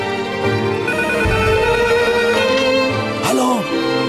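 A telephone rings in a domestic drama scene, repeated electronic bell-like tones pulsing over a musical background, with a short sweeping tone near the end.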